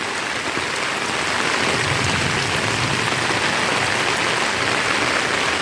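A heavy, continuous downpour pours outdoors, a loud broadband wash of countless drops hitting surfaces, swelling after the first second and then holding steady with no one speaking.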